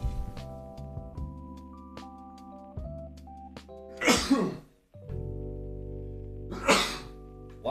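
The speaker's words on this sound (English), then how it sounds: "About to sneeze." Two sharp sneezes burst out over quiet background music, the second a few seconds after the first.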